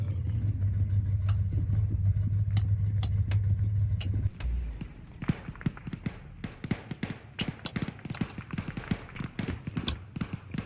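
Vehicle in the ARMA 3 video game: a loud steady engine drone that cuts off partway, followed by a scatter of sharp clicks and taps, with no speech.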